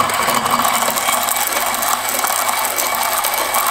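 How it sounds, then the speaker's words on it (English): A Kafatek MC5 coffee grinder grinds beans with its rotating burrs, giving a loud, continuous, even whirring grind with a gritty crackle that stays steady from start to finish. "Now, with Kafatek, you put the beans when the burrs are rotating."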